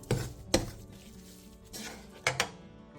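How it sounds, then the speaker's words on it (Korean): Tofu and crown daisy are stir-fried with perilla oil, salt, pepper and sesame seeds, and a utensil stirs them lightly in a pan. A few sharp clinks and scrapes land against the pan amid a soft background, with no talk. "마지막으로 소금 2분의 1티스푼, 들기름 1티스푼, 후추, 통깨를 넣고 가볍게 뒤적여 마무리해주세요."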